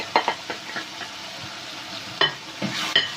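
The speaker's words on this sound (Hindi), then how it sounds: "मिक्स कर लेंगे, अच्छे से मिक्स कर लेंगे तमाम मसाले" Spices being stirred into fried tomatoes in a karahi pan for chicken karahi, soft scraping strokes and brief sizzling bursts at irregular intervals, close and with no voices.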